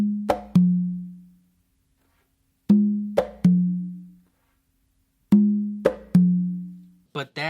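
Conga tumbao, played slowly and alone: three clusters of sharp slaps and resonant open tones, each ringing out into a pause before the next, with a brief rattle at the very end.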